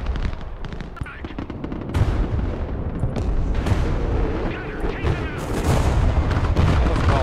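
Heavy explosions from an aerial bombing run in the military strategy game Broken Arrow, loud rolling booms and rapid gunfire-like bursts stacking over several seconds.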